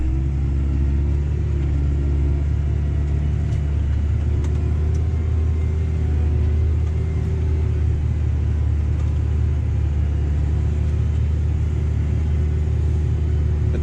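A New Holland T7030 tractor drives home along a wet road after dung spreading, its engine a loud, steady, deep rumble with a constant drone and road hiss, no talk heard.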